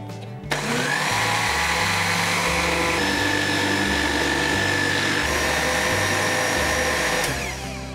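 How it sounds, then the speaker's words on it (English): A blender churns cream for homemade mango ice cream, motor starting abruptly and running at a steady loud whine for several seconds before cutting off near the end. "Now only thing left is to churn it."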